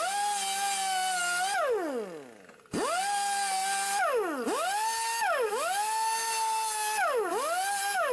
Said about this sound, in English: I do have this little cheap flapper wheel. I don't know if it'll work.